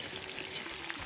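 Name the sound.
lamb ribs frying in a kazan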